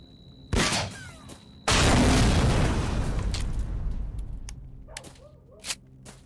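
An explosion goes off in the S.T.A.L.K.E.R. video game, a loud sudden blast after a short sharp burst, followed by a long rumbling decay and scattered pops and crackles.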